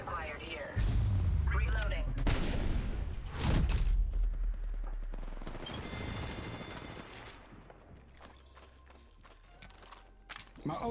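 Gunfire in the Apex Legends Mobile game: bursts of heavy shots and booming impacts in the first few seconds, then lighter sporadic fire and game effects, with a game voice calling out over the action.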